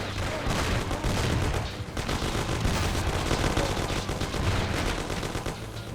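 Gunfire in the video game Mafia, a dense burst of rapid shots and cracks crowding together in a sustained firefight that stays loud throughout.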